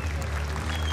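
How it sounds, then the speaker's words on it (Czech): An audience at a GCF 41 MMA fight event applauds, giving a dense, steady wash of clapping from a large crowd that fills the whole second. "Takhle za mě potlesk obou dvou zápasníkům velikánský."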